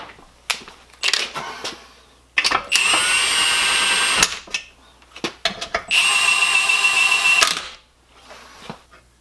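A power tool runs in two sustained bursts of a couple of seconds each, tightening bolts on a Tremec TR3650 transmission, with clanks, clicks and handling noises of the parts between bursts, close and loud.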